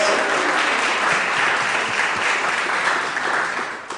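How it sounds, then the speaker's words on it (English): A dense, continuous round of applause from an audience at a spring handbell ring event, loud and sustained throughout, tapering slightly at the end. "Yes, round of applause"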